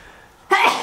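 A single sharp sneeze bursts out close and loud after a quiet moment indoors during a tabletop board game session.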